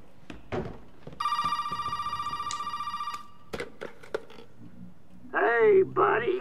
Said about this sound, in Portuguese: Ai, telefone. Cadê o telefone?